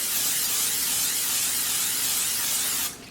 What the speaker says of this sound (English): we're going to go in with some more olive oil spray